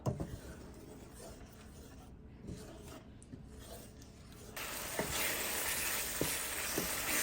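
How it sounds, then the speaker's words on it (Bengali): Yogurt and spices sauté in a pan for chicken biryani with a faint sizzle and soft scraping stirs, growing louder and hissier partway through, with no voices. "টক দইটা আমি এখানে কষাই নিয়েছি"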